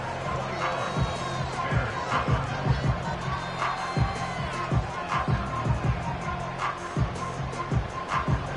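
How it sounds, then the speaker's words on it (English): A stadium crowd roars at Wembley in London during an NFL game in the Madden 25 video game, with continuous cheering and rhythmic noise from the crowd beneath the game sounds. "Big crowd on hand. They love American football."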